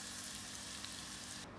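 Ground-meat balls fry in hot oil with a soft, continuous hiss and sizzle over a brief moment, faint and even, with no voices.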